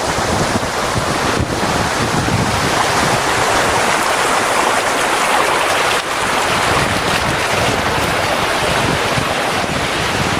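Steady, loud rushing stream water fills the whole stretch near Lulusar Lake, a broad continuous roar with some wind buffeting on the microphone, no voices.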